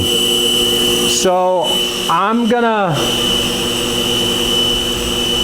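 A DC spindle motor on a CNC mill hums steadily at around 3150 RPM with a constant tonal whine, while someone talks briefly over it.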